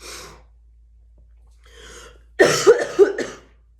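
A quiet pause with faint breaths, then a cluster of three or four loud, rough coughs right up close.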